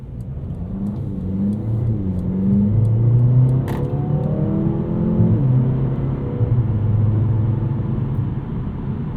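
2024 Mercedes CLA 35 AMG coupe engine revving under acceleration, rising through several gears with smooth quick shifts, heard loud and close from inside the cabin with no talk.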